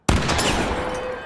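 A gunshot in the video game The Quarry: one loud, sudden blast that fills the sound and then carries on as a dense, roaring rumble for about a second.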